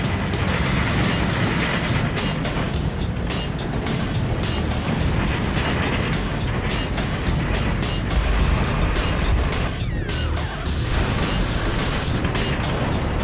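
A heavy truck crawls slowly over a rough, corrugated outback road in Australia, its engine and rattling chassis producing a loud, continuous rumble with steady jolting and clatter throughout, and no voices.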